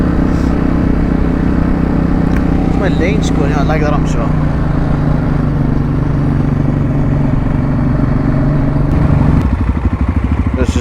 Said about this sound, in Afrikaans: Saam met pappa bietjie op die motorfiets vandag weer.